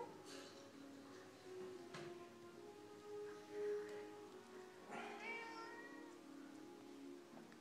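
A cat meows several times in short calls, quiet and close in a calm indoor room, with brief gaps between calls and some faint background noise.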